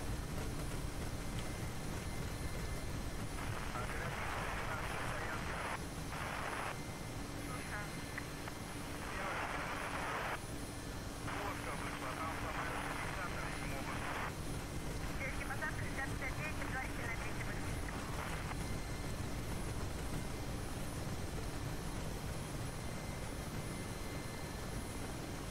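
Mi-8 helicopter rotors in the DCS flight simulator make a steady, loud, continuous drone that fills the whole stretch, with bursts of radio chatter cutting in and out over it.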